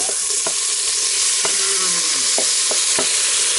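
Tomatoes dropped into onions frying in a pan in a Kenyan village kitchen, with a loud steady sizzle and occasional scraping stirs throughout.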